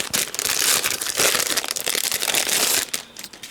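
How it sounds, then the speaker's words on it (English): Gnome-themed card kit pieces are pulled from their plastic packaging, a loud, continuous crinkling and rustling that runs close up for several seconds, then eases off briefly near the end. "I'm just going to take the things out of the packaging"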